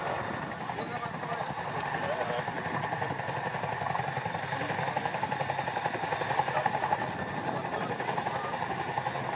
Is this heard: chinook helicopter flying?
yes